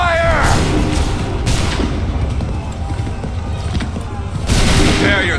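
Musket volleys ring out across a battlefield in Assassin's Creed III: loud, booming bursts of massed fire at the start, around 1.5 s and again near the end, with shouted commands heard between the volleys.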